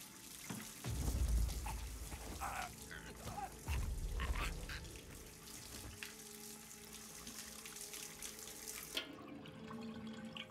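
Water running from a tap in a Hitman World of Assassination game scene, a steady hiss with low thumps early on, moderately quiet and continuous until it cuts off near the end.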